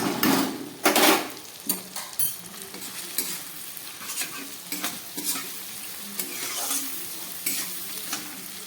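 Cumin and chili powders fry in hot oil in a pan for a fish curry, with close, repeated scraping stir strokes and a soft, continuous sizzle.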